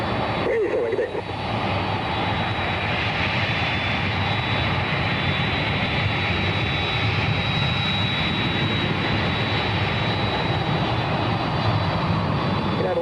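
A heavy airliner takes off at San Francisco International Airport, its jet engines a loud, steady roar that holds for over ten seconds, with faint radio chatter beneath.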